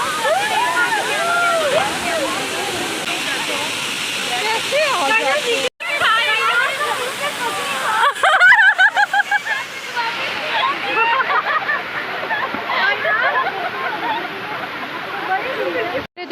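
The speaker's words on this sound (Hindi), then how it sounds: "पानी का बहुत ज़्यादा शोर था" Rushing water of a waterfall among mountain rocks on a summer trip, a loud continuous roar with sloshing and splashing close by throughout.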